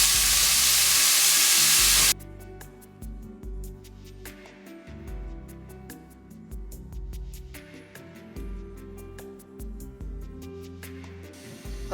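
Boiled chicken gizzards and garlic sizzle and fry in a pot, starting with a loud burst of hissing as they hit the hot fat, then settling into steady crackling with stirring clatter, no talking.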